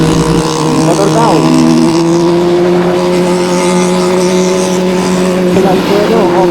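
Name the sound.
motorcycle engine passing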